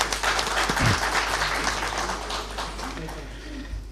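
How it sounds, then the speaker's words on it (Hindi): Applause from the audience at a mushaira poetry gathering, a dense, steady clapping that fills the hall and fades slightly toward the end over a low hum. "उसके लिए बहुत सारी तालियाँ होनी चाहिए"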